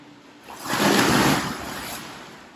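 A person jumps into a swimming pool, a single loud splash swelling and then settling into a washing churn of water.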